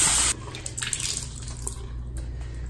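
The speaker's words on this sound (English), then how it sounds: "so I'm gonna wring this out" A washed makeup sponge, still holding some foundation, is wrung out over a sink, giving a steady close splash of streaming and dripping water that starts with a brief louder gush and runs on continuously.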